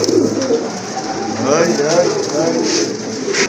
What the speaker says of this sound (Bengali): আরেক জোড়া গোল্লা কবুতর, এটা কিন্তু খুবই সুন্দর কালার